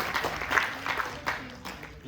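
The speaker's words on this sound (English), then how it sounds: "we should clap for this boy" Audience members at a careers talk applaud a student, brief uneven clapping in short bursts with voices mixed in.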